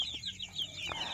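Free-range village chickens cluck in a brief, close burst of repeated short calls, with no voices over them.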